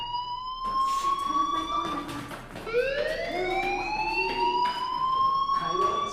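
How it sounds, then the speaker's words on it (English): School fire alarm in the video game Life is Strange: loud, repeating electronic whoops that sweep upward in pitch, with short noisy clatters underneath. "do you hear that fire alarm?"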